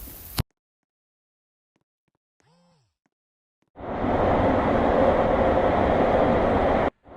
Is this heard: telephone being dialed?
no